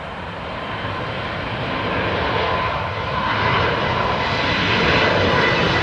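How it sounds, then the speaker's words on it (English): A KLM airliner rolls down the runway at Newcastle International Airport on its takeoff run, a broad steady engine roar that builds gradually and stays loud and continuous at a distance. "here's the KLM rolling"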